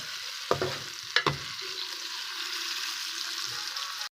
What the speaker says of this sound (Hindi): प्याज हमारा अच्छे तरीके से फ्राई हो रहा है।